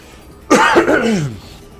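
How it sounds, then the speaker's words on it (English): A single harsh, raspy cough bursts out close and loud, trailing into a strained throat-clearing rasp, from someone playing Spyro Year of the Dragon Reignited. "Sorry for all the coughing."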